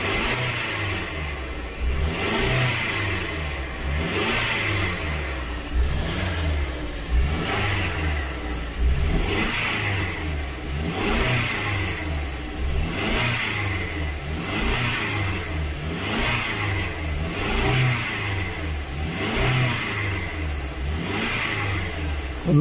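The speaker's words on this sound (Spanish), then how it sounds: "si la aceleramos, después de 3000, no se va a alcanzar a escuchar, después de 3000, se oye como un gu, gu, gu, gu," Mazda CX7 2.3-litre engine with a suspected valve timing fault, revved repeatedly past 3000 rpm in a steady rising and falling cycle, loud and close, with no voices.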